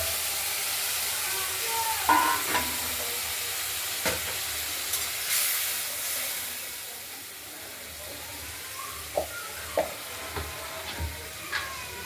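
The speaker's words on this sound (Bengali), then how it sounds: "এবার মশলাটা আমরা এর মধ্যে একটু হলুদ মিশিয়ে কষানোর জন্য দিয়ে দেব।" Spice paste mixed with turmeric sizzles among fried potatoes in a wok, a steady frying hiss broken by occasional clinks and scrapes of stirring.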